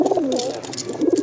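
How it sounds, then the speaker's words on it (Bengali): A pigeon caught in a loft coos loudly and close by, a short rolling throaty burst with no voices. "এই যে একটা কবুতর"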